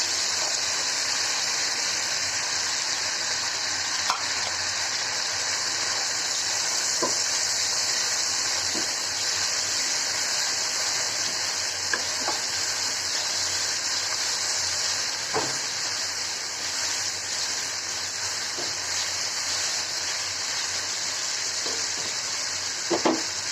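Onions fry in a pan with a steady, even hiss that holds at a constant level throughout, close by, with a few faint clicks and knocks scattered over the sizzle.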